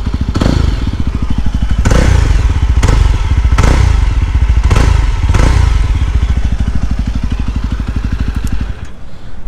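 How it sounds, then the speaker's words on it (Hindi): Yezdi Roadster motorcycle with dual exhausts revving loudly close by, a steady thumping idle broken by several sharp throttle blips before the engine settles and cuts off near the end. "इसकी एग्जॉस्ट सुनाता हूँ मैं आपको."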